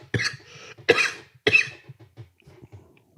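Three sharp, loud coughs in quick succession from one person up close, followed by a few fainter throat-clearing grunts, with no talking.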